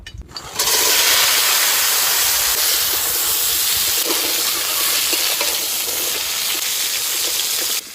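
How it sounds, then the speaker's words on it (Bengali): Crabs fry in hot mustard oil, a loud dense hiss that bursts in after a brief moment and then holds steady and close for the rest of the clip. "তেল গরম হয়ে গেছে, এবার কাঁকড়াগুলো ভেজে নেব।"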